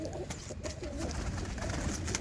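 Punjabi competition pigeons coo in a loft, several short low calls repeating over a steady background with faint clicks, and no one speaking.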